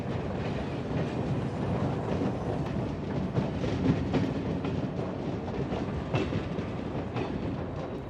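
Train wagons rolling along a railway, a continuous rumbling roar with repeated clickety-clack wheel beats and faint squeals, steady and moderately loud, with no voices.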